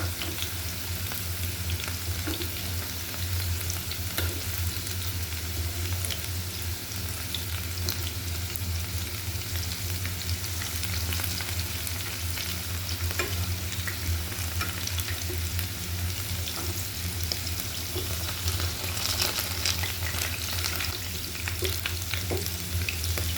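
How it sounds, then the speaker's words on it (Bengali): Potatoes fry in oil in a pan for a tilapia, potato and eggplant fish curry, giving a steady, even sizzle with occasional stirring sounds and no talk. "রান্না করার লেগে আলুগুলো এইভাবে আমি ভেজে নিচ্ছি।"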